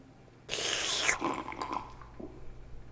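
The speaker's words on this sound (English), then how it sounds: "Now, just 3 sips of water." Sipping water in the video game Bendy and the Dark Revival: a sudden loud liquid burst lasting about half a second, followed by fainter scattered drips and gurgles fading out.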